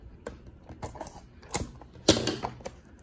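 A sealed box of 2021 Panini Prizm baseball trading cards being cut open, a quiet run of sharp clicks and scratchy slicing taps, close by, with one louder snap near the end.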